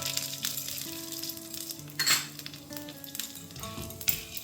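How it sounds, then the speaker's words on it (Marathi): Lentils roast in a little ghee for Maharashtrian metkut, a low sizzle under clinks of a metal spoon and pan, with a louder scraping stir midway and a few sharp taps. "मी त्यात थोडस हलक्या तुपावर ह्या डाळी सगळ्या भाजून घेते"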